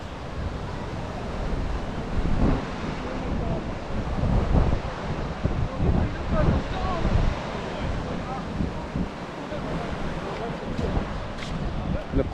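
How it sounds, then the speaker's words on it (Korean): Surf-sized waves break on the shore at Antibes in the south of France, a loud, continuous wash with heavy wind noise buffeting the microphone and swells rising and falling throughout. "서핑할 정도 파도가 치는데?"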